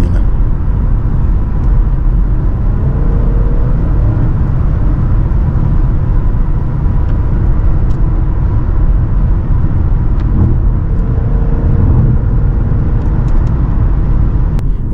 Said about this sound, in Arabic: والحين راح أجرب وضعية سبورت وأشوف التسارع الرهيب لهذه السيارة الجميلة